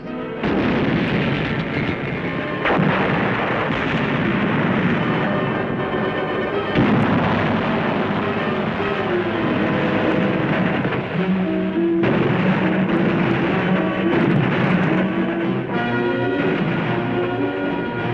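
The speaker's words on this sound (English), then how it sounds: "Enemy artillery is zeroed in on our positions." Heavy enemy artillery fire from a 1945 wartime film about Iwo Jima: continuous loud, rumbling blasts and booms that roll over one another for the whole stretch, dense and unbroken with no speech.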